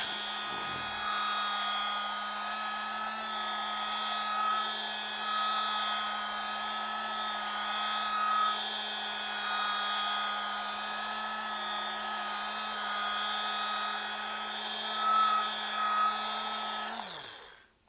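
An electric polishing machine buffs the fine-sanded finish of an electric guitar body with polishing compound, a steady close whine running without a break for about seventeen seconds before winding down abruptly at the end.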